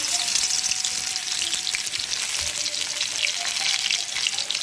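Garlic fries in hot oil in an iron wok with a continuous, bright, crackling sizzle that holds steady throughout.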